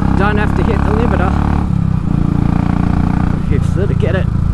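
A Royal Enfield Classic 500 single-cylinder motorcycle engine revs loudly and steadily close by, its thumping drone rising and falling through a couple of throttle sweeps, with someone talking over it.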